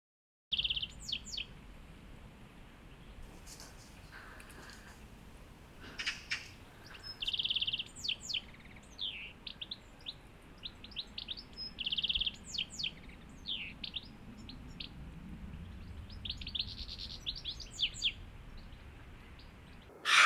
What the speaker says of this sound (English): Some great tits hanging about